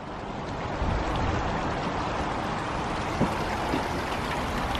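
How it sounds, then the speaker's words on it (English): A stream is forded outdoors near an abandoned mansion: a steady broadband rush of running water with wind, close and continuous, marked by a couple of brief splashes or knocks. "we're trying to ford a bloody stream here to get round the back"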